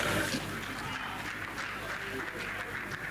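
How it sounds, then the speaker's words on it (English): A political party gathering's audience applauds steadily for about three seconds, a dense wash of clapping that holds fairly even and fills the room without any clear speech. "Please, a round of applause for them"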